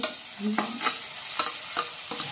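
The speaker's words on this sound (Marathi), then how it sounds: "आता या ठिकाणी कांदा चांगल्या पद्धतीने भाजून झालेला आहे" Onion frying and being stirred in a pan for a spiced fenugreek seed usal, with a soft steady sizzle broken by a few scraping stirs of a spoon, close and fairly quiet.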